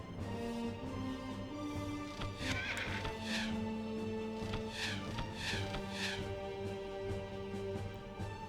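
A horse in the video game Battle for Wesnoth lets out several loud whinnies in a row, with hoof clip-clop and game noise steady underneath.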